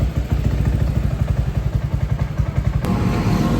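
A bored-up Honda PCX 160 scooter engine with a 63 mm kit runs steadily in a workshop, a loud, close, rhythmic low thumping idle with mechanical clatter and one sharp click near the end.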